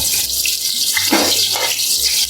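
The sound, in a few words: onions sizzling as they fry in hot oil for pulao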